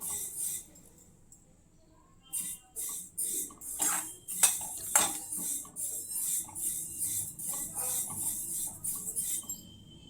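Sesame seeds roasting in a pan over a slow flame, stirred with soft scraping and a light, continuous sizzle, with a few clinks of the utensil against the pan.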